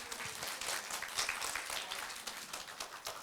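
Applause from a congregation at a church service, a dense, steady patter of clapping that carries on at a moderate level for a few seconds.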